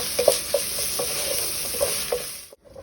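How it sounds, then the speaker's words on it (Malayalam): Crushed ginger and garlic sauté in a hot pan for egg biryani with a soft continuous sizzle, broken by several light spatula taps and scrapes, ending abruptly. "അപ്പം നമ്മുടെ ഇഞ്ചി വെളുത്തുള്ളി എല്ലാം നന്നായിട്ട് വഴന്നിട്ടുണ്ട്."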